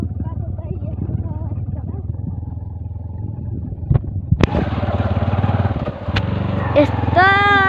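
A motorcycle rides over a rough rural road in Rolpa, Nepal, its engine a steady close rumble with clattering knocks, under people talking, and a sharp rise in pitch near the end.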